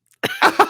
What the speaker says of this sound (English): was just coughing so hard in between that